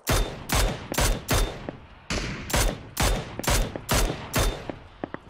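Repeated bursts of rapid machine gun fire in PUBG, about nine loud, sharp volleys in an uneven rhythm, each with a short echoing tail, ending with a few lighter single shots.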